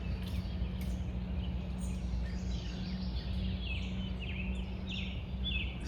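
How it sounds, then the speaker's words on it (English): Birds chirp faintly at a lake during a morning walk, with scattered high calls over a steady, constant background hum. "Listening to the birds."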